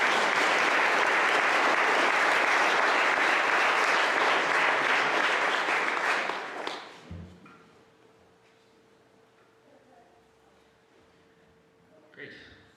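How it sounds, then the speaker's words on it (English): Loud, sustained audience applause fills a hall as a speaker is welcomed to the podium, then stops abruptly, leaving a quiet room with faint stray sounds and a brief clatter near the end. "So please join me in welcoming Tim Judson to the podium"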